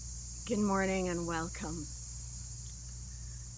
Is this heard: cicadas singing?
yes